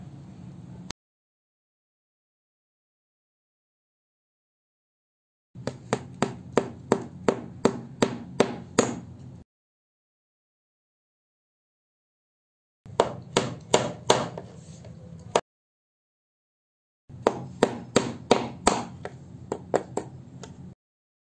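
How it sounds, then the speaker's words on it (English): Bursts of rapid, sharp hammer strikes driving nails into wood for a weaving loom, several quick blows per burst, separated by stretches of silence. "Now I'm going to start hammering in these."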